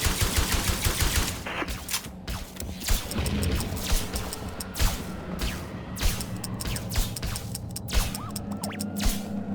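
Weapons fire in rapid bursts during combat in the sci-fi survival game Osiris: New Dawn, with dense repeated shots and impacts sounding close and loud throughout, layered over a steady game soundscape.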